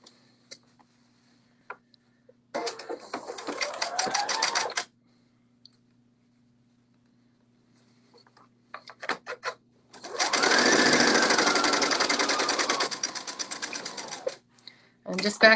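A sewing machine stitches the short ends of a folded fabric band into a loop, running in two loud, rapid, mechanical bursts separated by quiet pauses, with a brief stop-start run between them.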